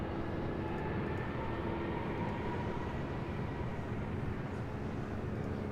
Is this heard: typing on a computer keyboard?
no